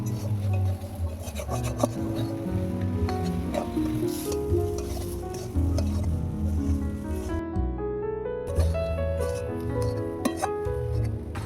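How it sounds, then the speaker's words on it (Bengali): A spoon stirs and scrapes a spiced potato filling with green chilli and coriander for aloo chop as it fries in a pan, giving repeated rasping strokes over a constant sizzle, close and fairly loud. "এবারে ভালো করে নেড়ে চেড়ে আলুর পুরটা বানিয়ে নেব।"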